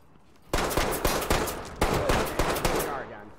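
Burst of automatic gunfire in the tactical shooter Ready Or Not, a rapid string of sharp close shots starting abruptly after a quiet moment and then trailing off.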